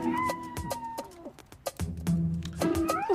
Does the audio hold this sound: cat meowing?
yes